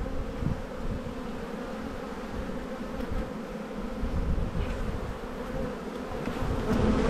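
Honey bees buzz around a hive frame during spring buildup in Australia, a dense, continuous droning hum from many insects close by, swelling slightly toward the end, with no voices.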